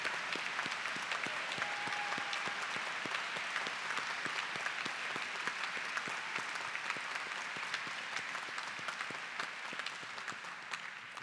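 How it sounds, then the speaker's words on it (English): Audience applause at a 2017 Pitt Law commencement ceremony, a sustained, fairly distant roar of many clapping hands that continues evenly for over ten seconds. "give you a round of applause as well"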